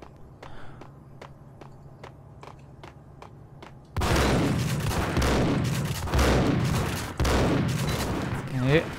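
Shotgun fire in the Max Payne video game: a run of sharp, evenly spaced clicks, then loud booming blasts with heavy echoing tails and overlapping game noise, close and forceful.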